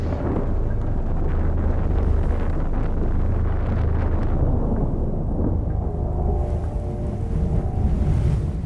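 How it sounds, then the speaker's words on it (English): Strong wind gusts from an outer band of Hurricane Gustav in New Orleans make a loud, steady roar and rumble close to the microphone, continuous for several seconds with no talk. "This is a severe outer band with a lot of strong wind."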